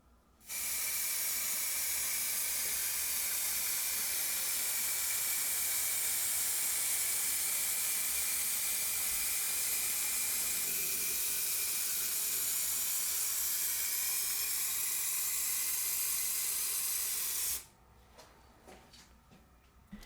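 A steady, loud spray of clear lacquer over a resin turning blank hisses continuously for about seventeen seconds, then cuts off, leaving quiet rustling and handling noises.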